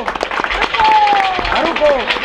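A crowd at a Good Friday gathering in a village claps in a busy patter of applause. Voices call out over and around the clapping throughout.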